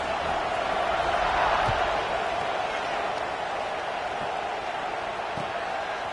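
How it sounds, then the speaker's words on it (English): A stadium crowd in a PS5 football video game keeps up a steady, dense buzz of murmuring and cheering that holds at one level throughout, with a brief swell early on. "this crowd is buzzing after that last score"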